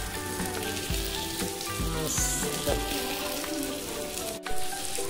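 Jumbo mackerel (bangda) fish frying on a hot griddle (tava), giving a steady, close crackling sizzle with a few soft thumps and one brief spoken word.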